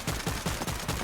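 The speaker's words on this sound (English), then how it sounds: "you need to be able to fire the missiles" Rapid volleys of missile launches in a World War video game, a run of repeated punchy bursts roughly every fifth of a second, loud and close with no voices.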